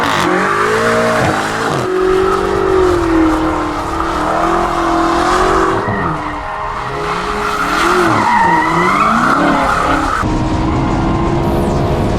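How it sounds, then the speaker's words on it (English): Loud tires of an Audi R8 V10 Plus skid and squeal continuously with a revving engine, sustained screeching that rises and falls over steady motor roar, close by. "some fun with Mike, my buddy, and his M8, shredding some tires."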